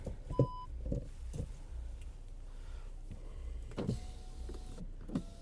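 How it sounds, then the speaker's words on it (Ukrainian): Power windows of a Skoda Octavia A5 whirring up and down in short motorized bursts, with clicks of switches between runs inside a quiet cabin. "Склопідйомники працюють."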